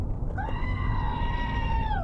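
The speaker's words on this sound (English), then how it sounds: "I know she likes the screaming goat," A screaming goat toy button lets out one long, loud, wavering electronic goat scream lasting nearly two seconds, bleating over a steady low hum inside a car.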